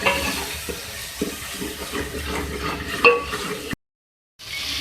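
Spices being mixed with ground black pepper for a summer dal and rice dish, a moderate scraping, stirring rustle with a few soft knocks and a brief sharper clink, close by, ending in a short silent gap before resuming.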